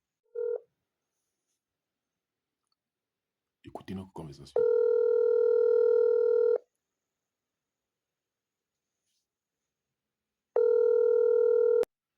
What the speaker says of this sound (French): Attendez, je vais l'appeler, je vais comme ça l'appeler.